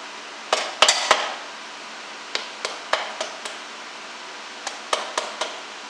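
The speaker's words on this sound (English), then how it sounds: "the manual does say to hit this with a rubber mallet to seat it. So, I'm gonna tap it just to seat it" Rubber mallet tapping a Harley cam chain tensioner to seat it: a loose cluster of close blows, then a spaced series of single light taps in a quiet workshop, no talking.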